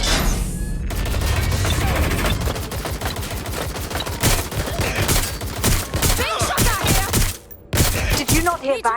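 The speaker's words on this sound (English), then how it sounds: "Shots fired!" Rapid bursts of automatic gunfire in the video game Watch Dogs Legion rattle almost continuously. Dense volleys are followed by sparser shots, and voices can be heard in the mix.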